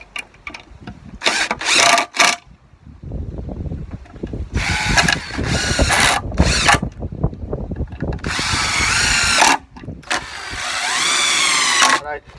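A power drill driving 3-inch T25 Torx screws into a planter shelf board for a deck, with several loud whirring bursts of varying length separated by short pauses and a voice speaking between them.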